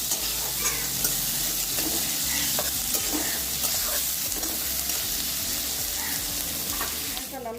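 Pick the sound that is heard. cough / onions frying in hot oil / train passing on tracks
onions frying in hot oil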